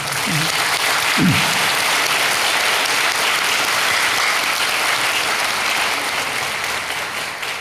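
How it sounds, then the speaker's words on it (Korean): A church congregation applauds teachers during a worship service, a dense, steady wash of clapping from many hands filling the room, with a brief voice near the start and the applause holding evenly throughout. "이분들에게 우리가 박수 한번 해드리죠"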